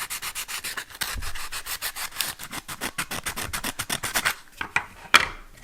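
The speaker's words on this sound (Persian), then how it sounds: "برای همین میخوام یه کوچولو سنباده بزنم اینجا رو" Sandpaper rubs back and forth over a warped 3D-printed plastic part to flatten it, giving quick, regular close-up scraping strokes that start steady, then break into a few sharper, louder passes near the end, with no talking.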